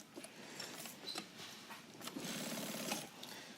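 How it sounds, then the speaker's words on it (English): A sewing machine stitches a 2-inch nylon security strap with back tacks, short bursts of rapid mechanical rattling between brief pauses and faint rustles, quiet and close, with a steadier run of stitching toward the end. "Sew around nylon and back tack on both sides."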